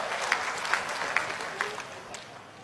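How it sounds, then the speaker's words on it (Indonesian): Audience applause on an Indonesian comedy stage show, a moderate wash of clapping with a few sharper accents, fading somewhat toward the end. "Tepuk tangan buat Indonesia."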